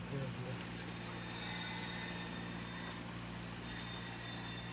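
An HO scale model train squeals its wheels on a curve, a sustained high metallic whine that fades and returns over a low rolling rumble, with a voice briefly at the start.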